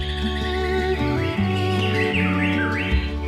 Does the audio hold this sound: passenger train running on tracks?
no